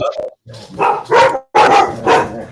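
Dogs barking close by in a home, several loud barks in two or three bursts with short pauses between them, with no talk over them.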